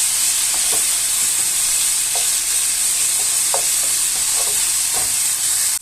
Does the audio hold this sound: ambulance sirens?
no